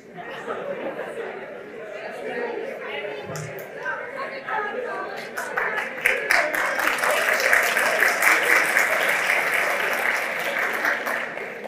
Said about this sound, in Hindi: और ये तालियां क्यों बजा रहे हैं?